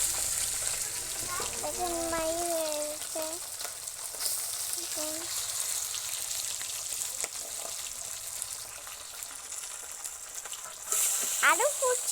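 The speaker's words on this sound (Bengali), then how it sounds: "মাছগুলোকে ভাজতে দিয়ে দিয়েছি আর মাছগুলো এত পরিমাণে ফুটে" Pabda fish frying in hot oil in a home kitchen, a soft steady sizzle running underneath, with someone talking over it in the first half and a brief louder hiss near the end.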